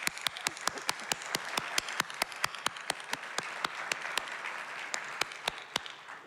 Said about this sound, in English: For all that you do for this library, Stacy, you deserve our admiration and at the very least, a round of applause